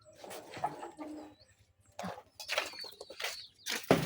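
A newly acquired target bird calls up close in short, soft cooing bursts separated by pauses, over a low background hum.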